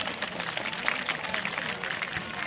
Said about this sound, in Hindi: जोरदार तालियां होनी चाहिए इनके लिए।